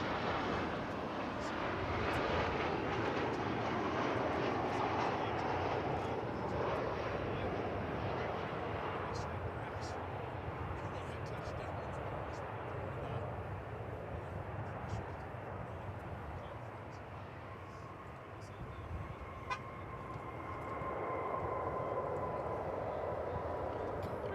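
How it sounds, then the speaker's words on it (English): An American Airlines Boeing 737-800 jet on approach at Dallas Fort Worth airport, a broad steady engine roar that lingers throughout, with voices talking over it now and then. "Coming into focus now, 737-800 American Flight 1526."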